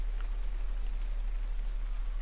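Rain falls in the video game Ark: Survival Evolved, a steady dense hiss of drops on surfaces over a low constant rumble, with no voices.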